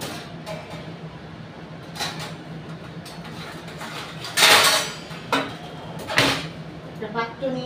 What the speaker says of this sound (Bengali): তার আগে একটা পাত্র নিয়ে নিই